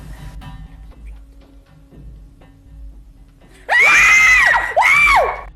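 Two girls let out loud, piercing screams in a played scary video, two long shrieks in quick succession that cut through a quieter stretch of faint background noise.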